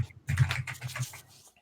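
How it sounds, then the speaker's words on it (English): Rapid clattering keystrokes on a computer keyboard during a live online debate, a dense run of taps that thins out toward the end, close and moderately loud with no talk over it. "are you typing?"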